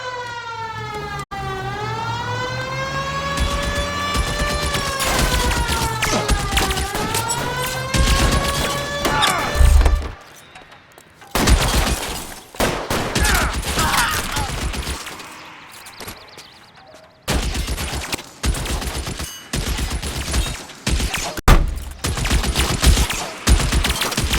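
Video game shootout in L.A. Noire, with a wailing police siren rising and falling over rapid bursts of gunfire, then dense volleys of shots with brief pauses, loud and continuous throughout.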